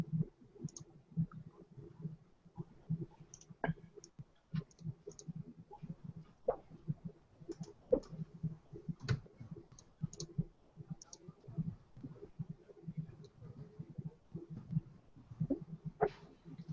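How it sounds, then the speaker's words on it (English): Rapid, irregular clicking of a mechanical keyboard in a room, light taps scattered steadily throughout at moderate distance, with no talk over it. "Who's clicking italics? Fucker. Remember, freaking Tom has a mechanical keyboard"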